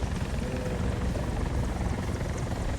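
A helicopter in the War Thunder tank battle mode passes overhead as a steady, dense rotor and engine rumble at constant loudness, with no talking.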